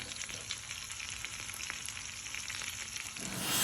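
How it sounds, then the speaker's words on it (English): Butter melts and sizzles in a hot pan in a home kitchen, a continuous crackling fry with soft popping, steady and close, growing slightly louder at the end. "You can hear the butter is melting now."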